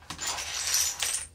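Coins clatter and jingle as they are poured out in a bank-teller roleplay, a close, bright metallic cascade lasting about a second with no speech.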